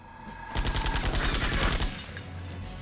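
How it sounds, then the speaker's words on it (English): Gunfire in the video game Septerra Core, a rapid burst of loud, close shots rattling for over a second before tailing off into a low hum. "Shoot him with a gun."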